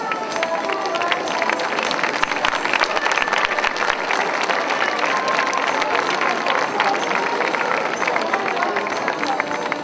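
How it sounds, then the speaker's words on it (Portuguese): An audience at a national Portuguese folk costume parade applauds steadily, dense continuous clapping mixed with crowd noise and cheering throughout, loud and fairly close. "Palmas para eles."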